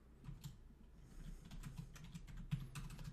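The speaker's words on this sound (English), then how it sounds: "when I start typing in, it's all crammed together" Typing on a computer keyboard while entering commands in a telnet session during a Cisco networking lab, with quick irregular key clicks and a busier burst toward the end, fairly close and with no voices.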